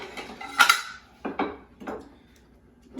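Dishes and pans clatter in a kitchen while scallops are plated, a few sharp clinks and knocks spaced out over a quiet background.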